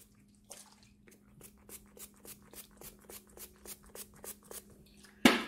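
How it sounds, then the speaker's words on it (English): Rose water and glycerin sprayed from a pump bottle onto a washcloth, a steady series of about twenty short, evenly spaced, soft spritzes at close range, ending with a louder bump. "I am going to spray rose water and glycerin on my washcloth."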